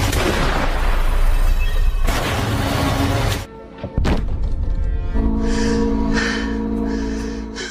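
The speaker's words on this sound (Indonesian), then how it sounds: "Charles berhasil melepaskan tembakan ke arah Catherine." Loud, chaotic film action noise from the movie Solace, with a couple of sharp, booming gunshots around the middle, followed by a brief lull and a tense sustained tone.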